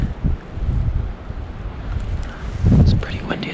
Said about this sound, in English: It's pretty windy at the moment